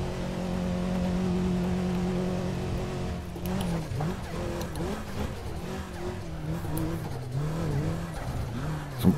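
A Toyota race car in the Assetto Corsa racing game on a hillclimb, engine droning steadily then wavering as tyres skid and scrabble over gravel, loud and continuous with a sharp knock at the end.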